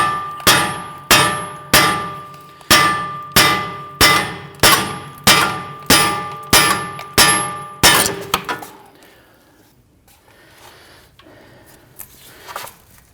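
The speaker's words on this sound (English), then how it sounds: "Just using our brass punch in there." Sharp metallic clangs from a brass punch being hammered to free the CV axle of a 2009-2017 Volvo XC60 during front strut replacement, about a dozen loud, evenly spaced ringing strikes, then quiet shop noise.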